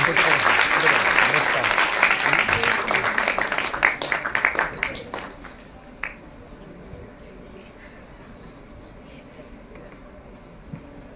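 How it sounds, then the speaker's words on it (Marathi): A hall audience at an anniversary ceremony honouring a dot-painting artist breaks into loud, thick applause that holds for several seconds, then thins into scattered claps and fades to near quiet. "जोरदार टाळ्यांचा कडकडाट ठेवूया."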